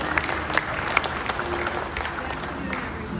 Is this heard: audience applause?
yes